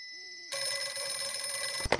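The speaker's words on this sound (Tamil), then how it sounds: "ஆஃபீஸ் லேண்ட்லைன்ல ஃபோன் ரிங் ஆச்சு" An office landline telephone rings at night, a bright, loud electronic ring starting abruptly after a quiet moment and holding steady for over a second before a clunk, with no talk.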